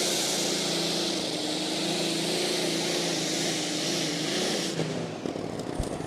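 A modified-class pulling tractor roaring at full revs during a pull at a tractor pulling event in Putten, a dense, loud, continuous engine drone that drops and shuts off near the end.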